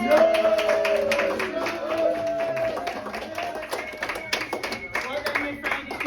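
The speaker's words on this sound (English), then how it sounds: "I think that we should bring up Madison Dunham for another round of applause" Scattered clapping and cheers from a small comedy show crowd in Seattle, a ragged patter of hands mixed with voices and a rising whoop, with talking throughout.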